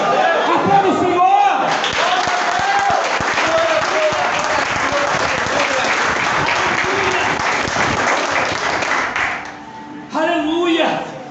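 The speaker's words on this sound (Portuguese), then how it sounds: "Aplauda o Senhor!" A church congregation claps during a Portuguese-language worship service: loud, continuous clapping that fills the middle of the clip, with a preacher's amplified voice heard just before it and again as it ends.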